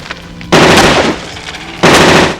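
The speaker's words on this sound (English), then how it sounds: "The gun fired 3-round bursts." A chrome hand cannon from RoboCop (1987) fires two loud, rapid bursts of several shots each, separated by a short pause, cracking sharply against a quiet background.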